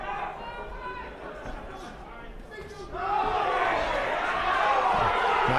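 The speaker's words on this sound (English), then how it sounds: "Sold quite a few tickets, the crowd are quite noisy" Noisy crowd at a live championship boxing show in Bolton, a steady murmur of voices that swells louder halfway through, with a commentator talking over it.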